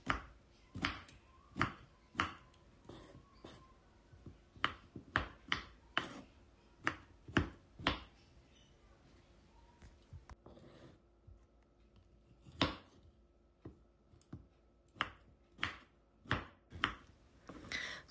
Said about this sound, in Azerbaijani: Çuğunduru uzunsov formada doğradım.